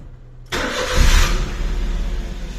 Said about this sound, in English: Wait, let me start my engine.